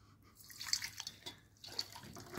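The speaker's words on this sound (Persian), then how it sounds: "آب جوش رو بهش اضافه میکنیم." Boiling water is poured from above into a dish of jelly powder for a jelly ice cream dessert, giving an uneven splashing and trickling patter that is close and fairly quiet, with no talking.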